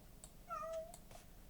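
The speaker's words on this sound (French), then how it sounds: "Ah, ça, c'est le chat qui parle." A single short cat meow, faint against a quiet background, with a brief rising-falling tone.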